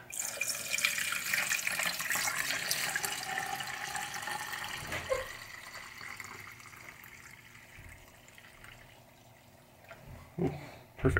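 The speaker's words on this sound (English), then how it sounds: "I'll just pour enough in here to cover that." Evapo-Rust rust remover pours steadily into a can for several seconds, a close, rushing splash that thins and fades, followed by a couple of brief clunks.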